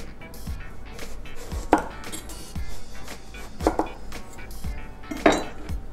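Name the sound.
slicing aubergine on a cutting board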